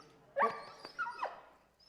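An excited, anxious dog whines up close in a few short, high, wavering whimpers over a couple of seconds.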